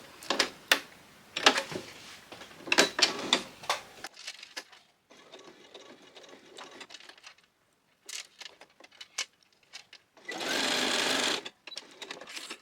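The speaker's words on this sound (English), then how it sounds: "I'm going to just sew along there just with a little straight stitch" A sewing machine runs a straight stitch through a small key fob or purse, sounding in several short bursts of rapid mechanical chatter separated by pauses, fairly close, with a few clicks and handling noises.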